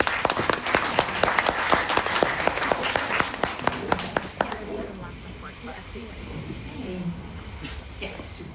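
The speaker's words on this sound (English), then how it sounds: "welcome, a big applause, and enjoy the story" A symposium audience on Japanese knotweed claps in a burst of applause lasting several seconds, with sharp individual claps standing out, before it fades and a voice starts talking.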